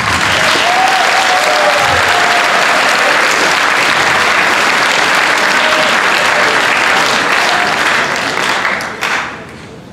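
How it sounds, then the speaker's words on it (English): Students at a school athletics awards night applaud their parents, a dense, loud burst of clapping with a few whoops, cutting off sharply near the end. "So students, please applaud your parents."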